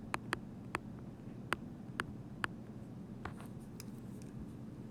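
Pen scratching on paper while noting math work: a series of short, crisp strokes and taps in quick succession, faint and close, over low room hum.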